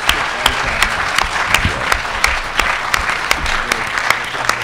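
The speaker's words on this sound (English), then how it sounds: "let's have some more applause for our speakers" Audience applause for speakers at a public debate on whether Edward Snowden is a hero, a steady wash of clapping with sharp individual claps standing out at a regular pace, moderately loud.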